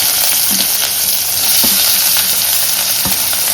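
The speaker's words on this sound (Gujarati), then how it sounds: "હવે આપણે જે શાક સુધાર્યું છે એ બધું નાખી દઈશું બધું સાથે જ નાખી દેવાનું છે" Chopped vegetables hit hot oil seasoned with asafoetida for a vegetable khichdi, giving a loud, steady sizzle and frying hiss with light stirring scrapes throughout.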